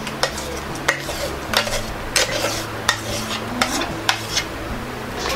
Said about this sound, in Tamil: இதை வந்து ஸ்லோ பண்ணி வச்சுட்டு இந்த மாதிரி நல்லா கிண்டி விட்டுருங்க